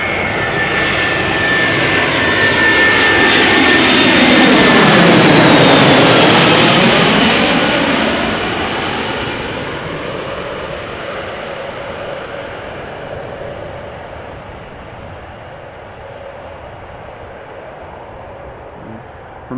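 An airliner comes in to land at Amsterdam Schiphol, its engine roar swelling as it passes close and loud overhead, then fading into a steady distant rumble as it rolls down the runway.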